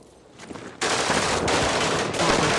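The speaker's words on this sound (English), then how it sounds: "Russian anti-aircraft gun. There's a lot of barrels on that bitch." A Russian multi-barrel anti-aircraft gun firing in a film scene: after a quieter lead-in, a dense, sustained roar of rapid automatic fire bursts in and continues loudly to the end.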